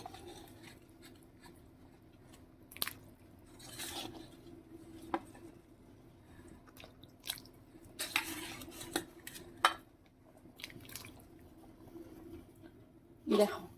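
Soft clinks and scrapes of a spoon in a pot as paneer goes into simmering potato curry, scattered taps and stirring over a low background hum, with a louder clank at the end.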